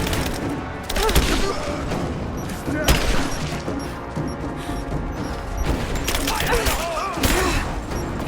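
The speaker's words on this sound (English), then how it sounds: "That's a grenade." Explosions and heavy gunfire from a grenade fight in Rise of the Tomb Raider, with several loud booming bursts over continuous rattling shots and a brief voice underneath.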